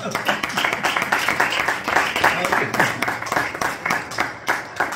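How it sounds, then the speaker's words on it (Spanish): A church congregation applauds during a sermon, continuous dense clapping at close range with a pulsing rhythm, loud throughout and with no speech over it. "un aplauso al Señor."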